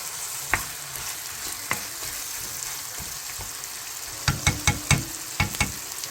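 Marinated duck meat sizzles steadily in a hot pan while stir-frying, with a soft crackling hiss and a cluster of sharp utensil taps and scrapes toward the end.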